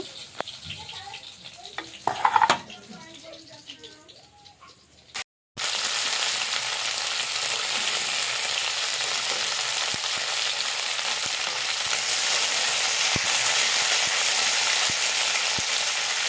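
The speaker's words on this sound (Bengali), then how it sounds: "কড়াইতে যেটুক তেল আছে ওই তেলের মধ্যে এবার আমি বরবটিগুলোকে একটু হালকা করে ভেজে নেব" Yardlong beans fry in leftover oil in a wok, a dense continuous sizzle that swells after a short pause and holds steady, with occasional clinks of a spatula stirring; earlier a quieter stretch carries faint sounds before the frying starts.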